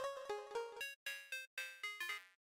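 Deltarune level-up jingle from a video game: a bright chime-like melodic sting of rapid tonal notes in quick bursts, clean and alone, with no talk over it.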